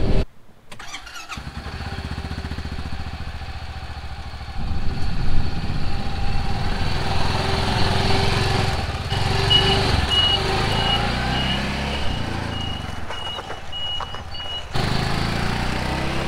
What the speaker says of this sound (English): we'll take off the handbrake, put it into drive, and it's an automatic transmission